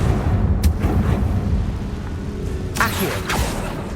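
A Confringo fire spell cast in the game Hogwarts Legacy bursts with a loud, rumbling blast and crackle, sitting over a dense, continuous game soundscape.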